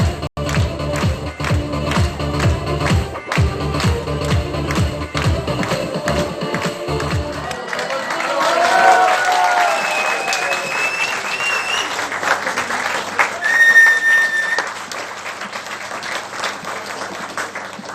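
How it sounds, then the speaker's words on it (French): Wedding guests clap along to loud party music at a DJ-hosted reception, and then a swell of applause and crowd noise follows once the music drops out. "Allez, on frappe les mains."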